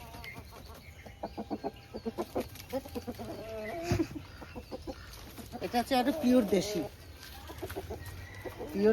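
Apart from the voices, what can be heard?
native desi rooster clucking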